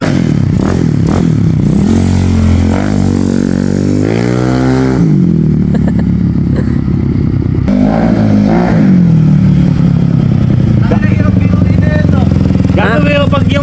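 A modified MX125 motorcycle with a 4-valve JVT racing head revs hard, its engine climbing and falling in loud, close bursts with rattling mechanical clatter, and voices are faintly mixed in.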